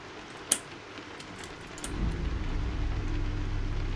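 Rain falls in American Truck Simulator, a soft steady patter that swells into a louder broadband wash partway through, with a brief sharp click near the start and no talking.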